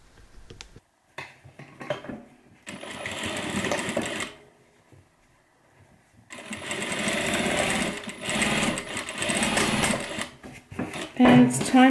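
A sewing machine stitches a 1/4 inch side seam on a messenger bag pocket in two close, steady bursts of rapid mechanical whirring separated by a pause, with faint clinks and handling noise between.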